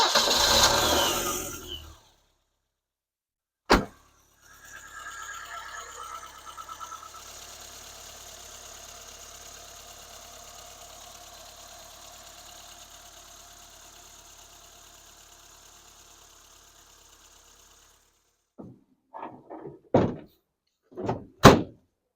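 A fuel-injected BMW E12 engine starts right away and settles into a steady idle that slowly quietens, after a sharp door-like thunk, with a few brief knocks and clunks near the end.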